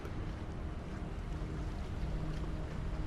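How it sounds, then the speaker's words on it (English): Open-ocean ambience aboard a wooden sailing ship, with a steady low wash of waves and wind-like rumble that holds even and fairly faint throughout. No distinct creaks stand out. "The soothing sounds of the ocean and the rhythmic creaking of the ship continue to lull your senses"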